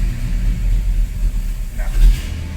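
A 1985 Ford F350 truck engine with carburetor and choke trouble idling, a low uneven rumble up close with slight surges, and a voice talking over it.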